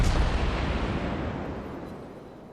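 A heavy naval artillery salvo from a Mikhail tier 8 Russian cruiser in World of Warships, one loud booming blast at the start that rolls off into a long rumbling decay.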